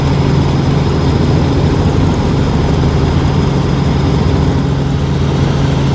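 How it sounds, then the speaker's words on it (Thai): A steady, loud engine drone with a low throbbing hum holds constant throughout, heard from inside a sightseeing helicopter flying over the Yorkshire countryside. "ไอ้เฮลิคอปเตอร์นี่มันเสียงดังจ้ะเพื่อน ๆนะ"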